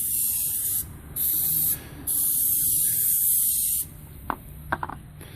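Easy-Off oven cleaner sprayed from an aerosol can onto AR15 parts: three long hissing bursts, close and fairly loud, with short gaps between, then a few faint clicks and handling noises.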